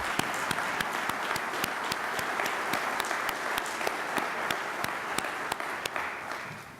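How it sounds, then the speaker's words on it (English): A crowd applauds at a groundbreaking ceremony for a multipurpose arena: steady, continuous clapping from many people, with a few sharp nearby claps standing out above the wash, gently fading near the end. "I'd like to ask everybody that they be given a round of applause at this time"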